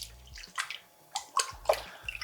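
Tap water splashes in short irregular bursts over rice being rinsed for arroz con pollo, close, quiet gushes and sloshes with brief gaps between them and no voices.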